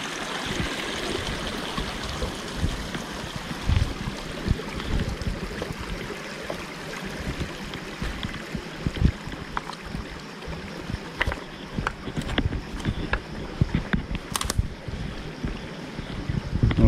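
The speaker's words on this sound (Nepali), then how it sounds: "यहाँबाट पानी पसेर यो ढुङ्गादेखि उतातिर निस्किरहेको छ" Water flows and trickles through a stone filter wall at a small drinking-water dam, a continuous rushing and gurgling wash heard up close for the whole stretch, with occasional splashes standing out.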